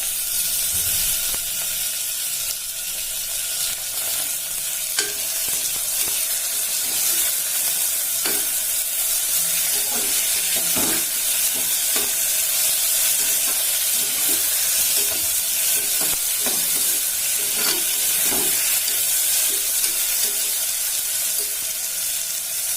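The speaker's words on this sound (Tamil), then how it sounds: "வெங்காயம் கொஞ்சம் வதங்கிட்டு தக்காளி போடுறேன்." Onions sautéing in a pan for white kurma, tomatoes added partway, with steady close sizzling and the scrape of a spoon stirring throughout, no voices.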